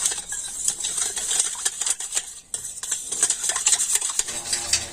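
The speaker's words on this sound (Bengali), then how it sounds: "এখন আমি কর্নফ্লাওয়ার আর চিনিটা এই তরমুজের জুসের সাথে খুব ভালোভাবে মিশিয়ে নেব" Cornflour and sugar are stirred into watermelon juice in a bowl, a quick run of scraping and tapping of a spoon against the container, busy and close, with no talking.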